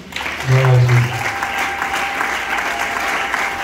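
A church congregation claps and cheers for Jesus during a French-language worship service, with a loud burst of applause swelling early and then settling into sustained crowd clapping, with a voice briefly heard.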